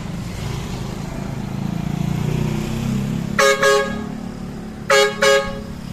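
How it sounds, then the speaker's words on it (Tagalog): Two pairs of loud, blaring bus horn blasts sound close by from a Toyota Fortuner SUV over its idling engine, each pair made of two quick honks. "yung busina niya para ka nasa terminal ng bus"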